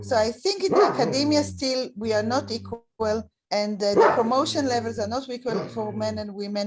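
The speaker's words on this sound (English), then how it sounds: "Sorry for my dog." Dog barking in short bursts in the background of a home video call, under a woman's continuous speech about gender equality in academia.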